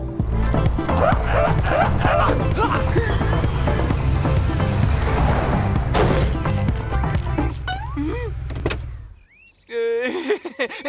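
A cartoon dog barks and yips excitedly over a running car engine, then the engine cuts off, leaving a few short vocal sounds.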